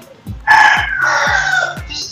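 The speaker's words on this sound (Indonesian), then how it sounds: "Ada yang suara ayam berkokok juga." A rooster crows one long, loud cock-a-doodle-doo nearby, drawn out over a couple of seconds, with a few lower thumps and clucks underneath.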